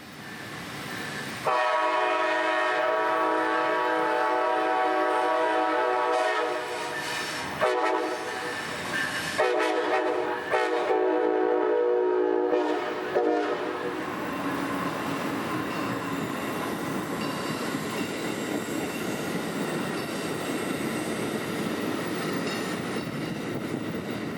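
A loud train horn blares in long blasts as a freight train rumbles past a street crossing in Central Florida, wheels squealing and clattering steadily after the horn fades.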